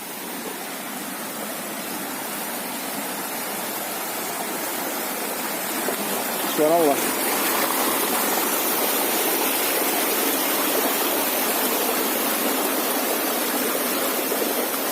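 A river rushes over boulders along a steep, rocky trek to a waterfall, its loud, steady roar of flowing water filling the scene without a break while one voice speaks briefly midway.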